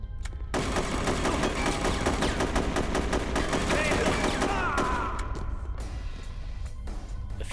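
Rapid automatic gunfire in the video game Chaser, a loud burst of fast repeated shots for about four seconds, then tapering off into a few scattered single reports and debris clatter.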